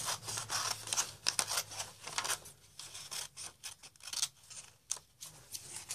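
Scissors snip through paper in a quick irregular series of close, crisp cuts with rustling between strokes, no one talking.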